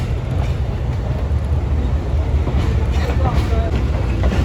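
Khushal Khan Khattak Express train rounding a curve near the Karachi City station yard, a steady loud rumble of wheels and carriages with faint squeals, heard from on board throughout.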